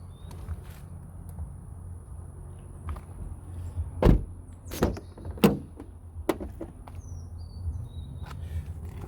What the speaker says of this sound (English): I'm just slinging the doors open.